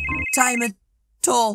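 A ringing phone in the Roblox game Brookhaven, a steady high electronic tone at first, then a voice talks over it before a pause and more talk.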